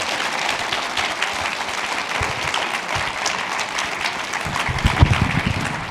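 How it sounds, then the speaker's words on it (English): An audience's round of applause at the close of a public lecture, dense continuous clapping of a large hall crowd that stays full and steady for around six seconds, with a few louder individual claps near the end. "let's give a round of applause."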